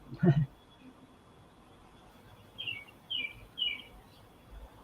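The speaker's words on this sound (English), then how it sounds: "Isn't that bird? Whose bird is it?" Small birds chirp outdoors beside a river with giant trees, a few short high calls in a quick cluster, faint and moderately distant over quiet background noise, following a brief low thump at the start.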